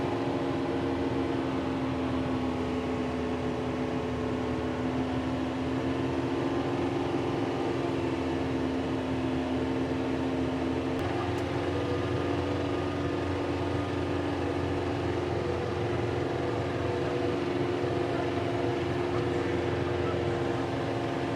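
A 52 HP tractor pulling a 10-foot flex wing mower through tall grass and weeds, a steady droning engine and mower hum heard from the cab, continuous and unchanging for over twenty seconds.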